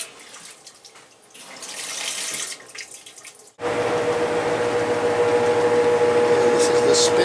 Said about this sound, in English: This is the spin cycle after rinse. It sounds really good.